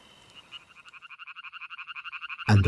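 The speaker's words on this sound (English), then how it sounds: "the shy Italian tree frog, the males of which spend their spring nights raucously calling in order to attract the females" Italian tree frog males calling at night in spring: a rapid, steady train of about thirty sharp, nasal croaks grows gradually louder and ends in a sudden loud burst.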